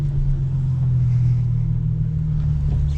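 Steady low engine drone from a Genesis Coupe held at light throttle, an even hum with no revving or talk, continuous throughout.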